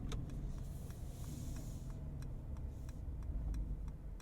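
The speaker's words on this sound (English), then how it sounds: "And what about the turn signal sound?" Turn signal ticking inside a 2023 Mercedes-Benz G550 with its 4-liter twin-turbo V8: light, evenly spaced clicks over a low, steady cabin and road hum, with no talking.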